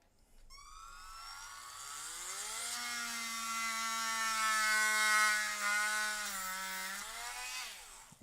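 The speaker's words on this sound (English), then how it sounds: "whenever you try to drill out a piece like that, it just melts the plastic" A power drill bores into a plastic piece, its motor whine rising in pitch and holding a strained, steady tone for several seconds before winding down; no talking.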